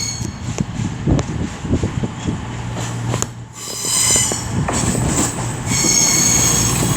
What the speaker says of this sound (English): It's the 1214 CrossCountry service from Reading to Manchester Piccadilly, worked by a pair of standard voyagers.